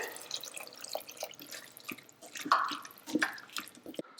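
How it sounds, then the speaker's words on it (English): Water poured into an Instant Pot of fava bean curry with sauteed chopped tomatoes, a moderately quiet trickle with scattered drips and small splashes over about four seconds, no voices. "Once the tomatoes are mushy, add around 1 cup of water."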